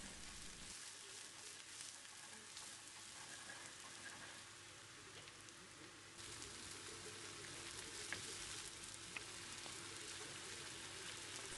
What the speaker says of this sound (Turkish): Şimdi hemen yüksek ateşte soğanları sote ediyorum.